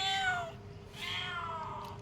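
A cat meows twice for milk in the morning, two loud, close, drawn-out cries separated by a brief pause, with no talking over them.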